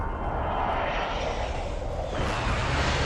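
An airplane engine drones steadily through a Warzone battle-royale match, a loud, continuous roar with no talk over it and a brighter, harsher tone toward the end.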